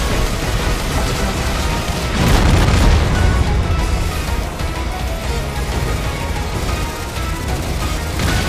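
A boss blows apart in the Raiden V: Director's Cut shoot-'em-up, a loud dense roar of explosion that swells around the two-second mark over continuous game noise and lasts several seconds.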